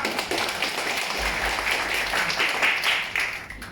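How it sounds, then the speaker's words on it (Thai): An audience at a Thai coaching seminar breaks into applause, with many hands clapping in a steady, fairly loud roar over a low hum. The clapping continues for several seconds and swells slightly near the end. "อขอเสียงปรบมือให้กับพี่อำนาจอามาดใจด้วยครับ"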